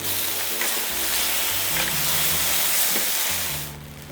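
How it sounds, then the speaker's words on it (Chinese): Chicken pieces pan-fry in oil over medium-low heat with a continuous, close, even sizzle. A low hum sits underneath, and there is no talking. "我们现在呢，尽量用那个中小火啊，给它煎一下，让它的底下就是煎个定型啊"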